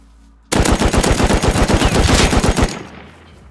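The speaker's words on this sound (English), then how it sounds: "What fucking gun was that, though?" Loud, close automatic gunfire from a video game bursts in suddenly and hammers in a rapid steady stream for about two seconds, then stops and leaves a fading tail.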